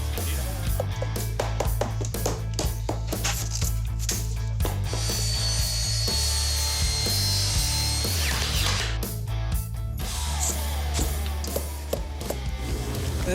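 New subfloor boards with insulation being laid in a derelict room under renovation, with loud close ratcheting and power-tool bursts, clattering wood and knocks in an irregular working rhythm.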